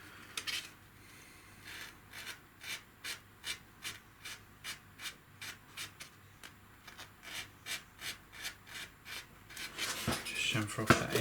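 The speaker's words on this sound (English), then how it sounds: "Just chamfer off that end just to make it sort of just a bit smoother." Steady series of short, evenly spaced scraping strokes as a sharp edge on a CNC-machined part of a TM 416 Next Gen AEG airsoft rifle is chamfered, close and crisp, ending in a louder rougher rasping burst.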